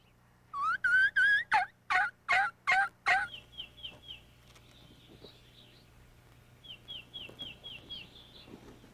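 A wild turkey gobbler lets out a loud, rapid series of rattling gobbles, then trailing softer calls and a few faint chirps follow at a distance with quiet gaps between.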